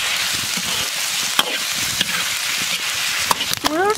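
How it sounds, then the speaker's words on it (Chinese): Minced pork stir-fries in oil in a wok with scallion, ginger, garlic and chili, giving a steady, close broadband sizzle broken by a few sharp spatula scrapes and clinks. "炒香以后下入猪肉"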